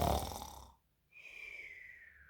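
Voices imitate snoring for a bedtime moment in the Gunniwolf story, a short noisy snort followed after a pause by a long whistling, sliding exhale, close and fairly loud.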